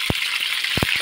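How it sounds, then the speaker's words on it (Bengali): Lote fish (Bombay duck) pakoras frying in hot oil, a steady bright sizzle running throughout with a few low knocks and thumps as pieces go into the pan. "চারটে করে ভাজবো"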